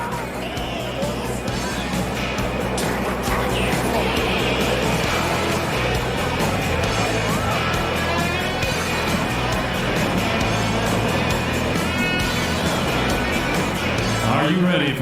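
Sprint car engines at a USAC/CRA heat race at Perris, California, a steady loud roar of several motors droning throughout under a voice talking and crowd noise.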